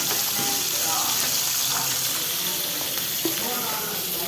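Cooking oil sizzling steadily in a pan at the start of a fish curry, a continuous broadband hiss with faint scattered clicks and crackles throughout.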